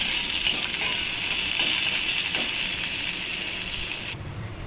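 Chopped onion sizzles in hot oil in a pan with black cumin seeds and a dried red chilli, a steady, loud hiss that drops off sharply near the end.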